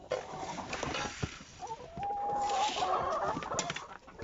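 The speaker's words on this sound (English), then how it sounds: "These chickens are going crazy." Several chickens clucking and squawking close by on a rural homestead, with one drawn-out call in the middle and scattered rustling around them.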